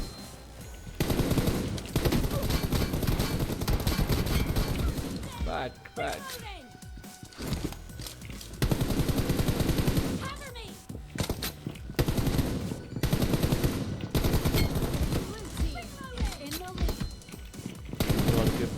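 Rapid automatic gunfire in the mobile shooter PUBG Mobile during a team deathmatch, loud sustained bursts broken by short pauses, with someone talking over much of it.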